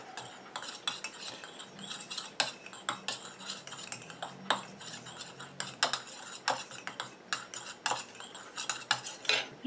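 Homemade face serum being mixed in a small bottle, a rapid run of light clinks, taps and scraping knocks at close range, irregular and fairly quiet throughout with no one talking.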